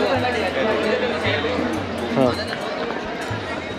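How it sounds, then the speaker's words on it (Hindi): Crowd chatter fills a narrow lane in Banaras, Varanasi: close, dense babble of many voices with passing footsteps and street noise, loud and continuous. "थोड़ा भीड़ भाड़ का शोर मतलब परेशान नहीं करता।"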